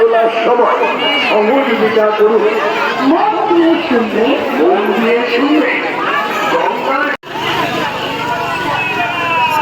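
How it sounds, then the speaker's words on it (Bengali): Dense crowd at Sheoraphuli market on the first Monday of the Tarakeswar fair: loud, close babble of many voices and chatter, with a person talking nearby over the steady hubbub. "এটা প্রথম সোমবারে মানুষের ভিড় দেখতে পাচ্ছ, কত মানুষের ভিড়"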